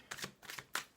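Oracle fairy cards being shuffled, three soft quick riffling bursts close by and fairly quiet, alone without talk.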